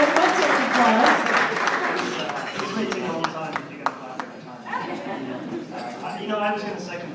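An audience at a dinner honoring a real estate firm claps steadily through the whole stretch, the applause thinning slightly midway as voices and crowd chatter blend underneath.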